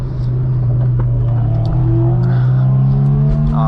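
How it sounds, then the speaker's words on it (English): A Honda S2000 engine drones steadily and loud from inside the cabin, the pitch climbing toward the end as the revs build under acceleration. "I gotta get VTEC to kick in"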